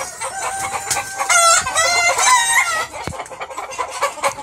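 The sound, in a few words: chicken clucking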